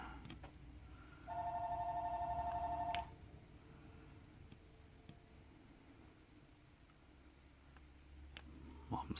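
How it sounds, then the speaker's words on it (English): A telephone rings once, a steady electronic tone lasting under two seconds, moderately loud over faint room noise, followed by light ticks and quiet background. "Yeah, that's the phone."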